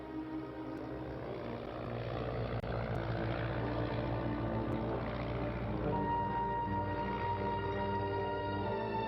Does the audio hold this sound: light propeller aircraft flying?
yes